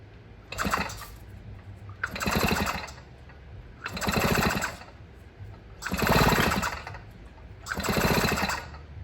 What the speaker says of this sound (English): And then with my clutch engaged, I'm going to spin the back wheel.